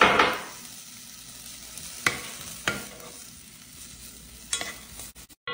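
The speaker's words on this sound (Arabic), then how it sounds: "سخنت الزيت، راح نضيف البصل." Onion goes into hot oil in a pan with a brief burst of sizzle, then quieter frying broken by a few scattered spoon scrapes as it is stirred, close by and without talk.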